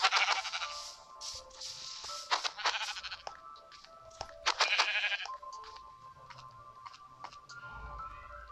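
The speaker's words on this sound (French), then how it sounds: "Oh, un mouton." Several sheep bleat in a series of quavering, nasal calls, some overlapping, at moderate distance outdoors with no talking.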